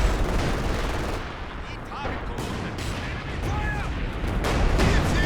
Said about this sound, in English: Bit of a base howitzer fire.